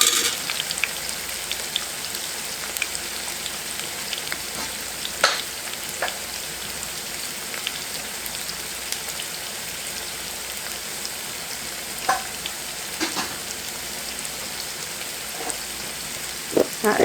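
Yellow squash frying in batches in a pan, lightly coated in plain cornmeal, gives a steady soft sizzle like rain, with scattered sharper pops and crackles throughout and no talking.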